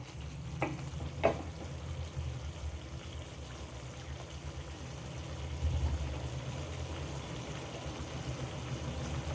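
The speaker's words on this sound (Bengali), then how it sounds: "শাকটা আমি আর একবার ভালো করে নাড়াচাড়া করে নেব।" Red amaranth greens frying in a pan on a chula stove give off a soft, continuous sizzle while being stirred. A couple of sharp utensil clinks sound early, and the frying stays quiet and close.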